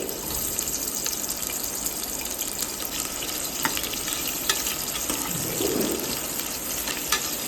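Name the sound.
sliced onions frying in hot oil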